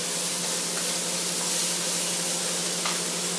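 Green pepper sizzling in a hot pan while cooking Kung Pao steak, a steady broad hiss with no talk over it.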